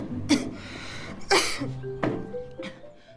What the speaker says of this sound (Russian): не могу перестать кашлять.